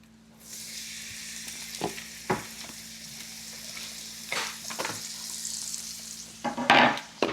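Chopped onions, about two small ones, tumble into melted butter and start sizzling, a soft hiss punctuated by several sharp scrapes and clatters of a utensil against the pan, close and moderately loud, without talking.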